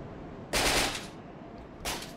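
Crossbow shots in Dark Souls II, two sharp bursts of game weapon fire about a second apart, loud and alone with no talk.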